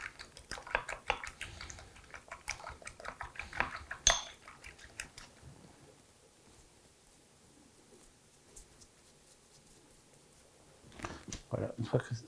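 Whole eggs being whisked in a bowl for glazing apples, a quick run of clinking utensil strikes against the bowl that fades to near silence before brief clattering resumes, with speech at times.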